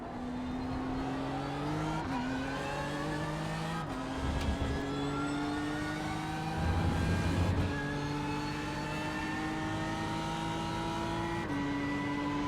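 A GT3 race car engine drones continuously in iRacing at Hockenheim, rising and falling through gear shifts with brief downshift blips and a tire scrub, steady and loud with no voices.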